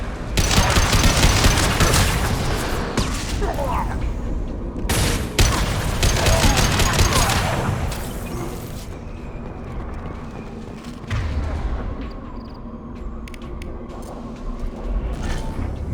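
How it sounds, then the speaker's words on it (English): Rapid weapon fire and heavy explosions from the Impact Shot power in the video game Mass Effect 2, a dense, loud barrage of bursts and booms that thins out after the first half. "Impact shot!"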